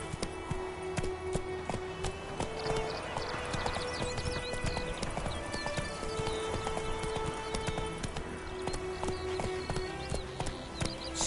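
Hooves of the horse Roach clip-clop at a steady walking rhythm in The Witcher 3, close and clear over a bed of game ambience, with a few soft whinnies mixed in.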